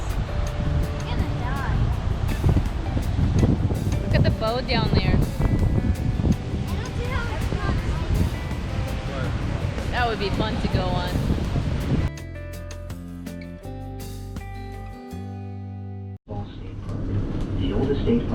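Rushing water at Niagara Falls roars loudly and continuously under wind buffeting, with a person talking over it, before the sound drops to a quieter stretch near the end.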